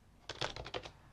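Quick burst of keystrokes on a computer keyboard while entering a password at an Arch Linux terminal: about six light, close clicks in a fast run, with no voice over them.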